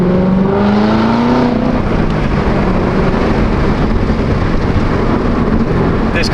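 A Corvette sports car engine drones steadily while driving, loud and continuous, with rising harmonic tones early on suggesting revs climbing through a gear, over broadband road and wind roar.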